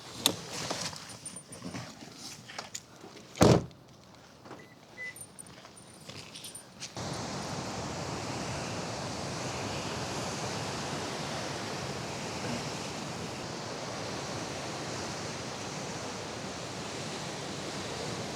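Waves wash continuously along the rocky Big Sur coast, a broad steady roar of surf that swells in after some quieter handling noise and a sharp thump near the start.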